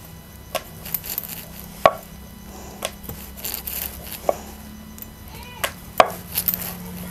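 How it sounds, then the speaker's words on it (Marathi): Modak dough rolled out with a rolling pin on a board: soft, irregular knocks and taps from the pin, close and fairly quiet, with faint rustling between them and no talking. "आता आपण हे लाटून घेऊया."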